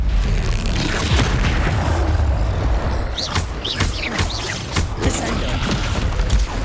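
Bombarda explosion spell cast in Hogwarts Legacy on Xbox Series X: a heavy booming blast with deep rumble, followed by scattered crackling debris and bursts, loud and close.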